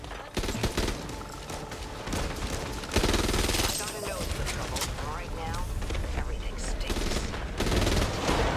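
Rapid gunfire from a gun in the video game Back 4 Blood comes in dense, loud bursts of shots and impacts, with someone talking over the action.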